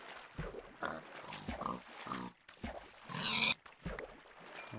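Pigs in the Minecraft video game grunt and oink in a string of short, quick snorts, fairly faint, with a brief louder hiss-like burst partway through and no talk.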